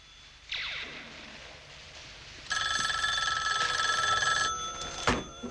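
An old-style telephone bell rings indoors in two bursts, a short one followed by a longer rattling ring, with a sharp knock near the end; fairly close, no voices.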